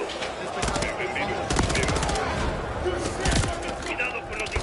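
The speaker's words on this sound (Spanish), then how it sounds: "Cuidado con los disparos, Osuno." Rapid automatic gunfire and scattered shots rattle through a Call of Duty: Modern Warfare III firefight, dense and loud for the whole stretch, with radio-style voices talking over the shooting.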